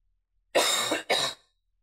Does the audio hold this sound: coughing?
yes